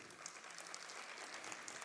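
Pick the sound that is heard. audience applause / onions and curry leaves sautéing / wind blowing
audience applause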